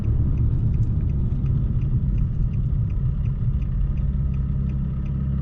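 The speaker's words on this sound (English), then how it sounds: "Yeah, that's my flywheel." Low, steady rumble and rattle from the flywheel of an Infiniti G37 with a six-speed manual transmission, a constant dense drone heard continuously and fairly loud, with no voices.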